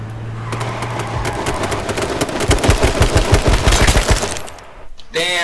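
Dense rapid gunfire in the H1Z1 King of the Kill video game, a fast rattling burst of many close shots running for several seconds before cutting off, followed by a brief different electronic tone.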